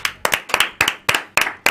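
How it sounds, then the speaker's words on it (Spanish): Sharp hand claps repeat in a quick, fairly even rhythm, about six bursts of close clapping from a few people at a studio show, with no talk over them. "un aplauso para Iñigo"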